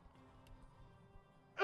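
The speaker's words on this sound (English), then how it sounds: "Sorry about the coughing." A single cough, muffled by partial noise canceling so it comes across like a sneeze, bursts out sharply at the very end after a near-silent stretch of faint background hum.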